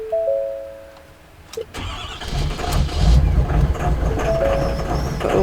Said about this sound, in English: the truck is like tripping to start.